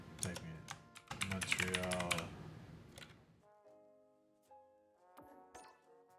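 Computer keyboard typing in a quick burst of clustered keystrokes during a gaming session, loud at first and then tapering off, followed by a softer stretch with tonal game sounds.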